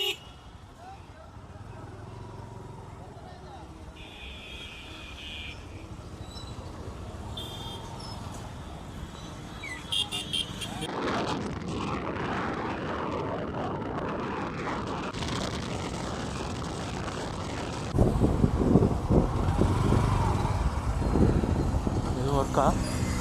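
Busy road traffic with cars and motorcycles near a market area, a continuous wash of engine noise that swells louder toward the end, with talking mixed in.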